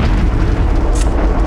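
An artillery shell explodes in a war video game set in a Cold War conflict, a loud sustained rumbling blast that fills the short moment with dense low roar.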